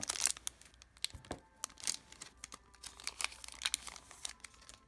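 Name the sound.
opening a Dragon Ball Super card booster pack wrapper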